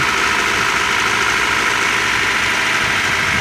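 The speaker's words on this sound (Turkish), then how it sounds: "Aracımız şu anda çalıştı." A Honda Civic engine idles just after starting, following a cylinder head gasket replacement, a loud, steady, close-up running hum that holds evenly without any speech.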